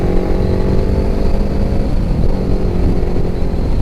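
A Suzuki GS550 motorcycle engine drones steadily and loudly up close, with a subtle shift in pitch around the middle as it drops down through gears, staying in nearly the same rev range throughout.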